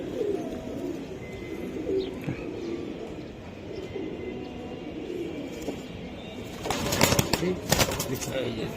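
Racing pigeons coo softly nearby under quiet background noise, with a brief burst of flapping or rustling near the end.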